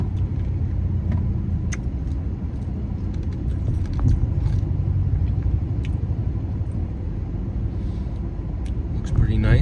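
A car rolls steadily through a quaint small town, a low continuous road rumble with faint engine drone and a few light clicks and knocks from inside the cabin.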